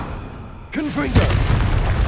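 A Confringo fire-blast spell cast in the Hogwarts Legacy video game, a sudden booming burst at the start followed by a second sharper impact, set against game ambience with a voice speaking over it.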